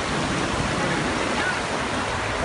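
A river near Bhinmal that people are wading across rushes in a loud, unbroken roar of flowing water, steady and close throughout.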